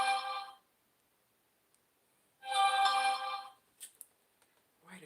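A mobile phone ringtone right after the phone is switched on, sounding two loud bursts of bright melodic tones separated by a short silence, with a faint voice near the end.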